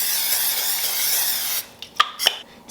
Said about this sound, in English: spray my crock pot with some nonstick cooking spray